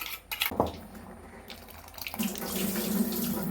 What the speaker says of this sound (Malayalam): ഇച്ചിരി വെള്ളം കൂടി ചേർക്കാം